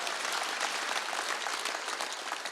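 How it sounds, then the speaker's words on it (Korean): Congregation applause during a Korean Wednesday church worship service, a dense, steady roar of many hands clapping, fairly distant and even, with no speech over it. "박수치야."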